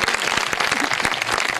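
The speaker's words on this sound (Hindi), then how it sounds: "पहला जोरदार तालियां मार लो" Congregation at a church worship service clapping loudly and continuously, dense rhythmic applause filling the room with steady intensity.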